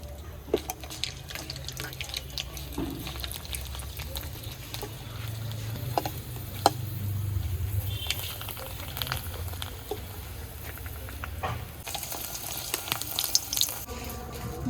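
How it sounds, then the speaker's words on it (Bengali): Chips and papad deep-frying in hot oil in a home kitchen, giving a steady, fairly quiet bubbling sizzle with scattered crackles and light clatter throughout, with no talk over it. "এবারে আমি কিছু চিপস পাঁপড় ভেজে নেব"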